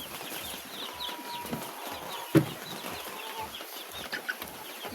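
White leghorn chickens in a batch nearing laying age on a small farm give soft, repeated clucks, close and fairly quiet over a low background, with one sharper sound in the middle.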